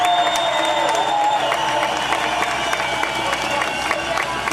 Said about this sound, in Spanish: para quienes pido un gran aplauso en esta plaza